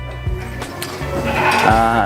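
Peranakan Etawa goats of the Kaligesing breed bleat close by on a farm, several wavering calls rising toward the end, with people talking in the background.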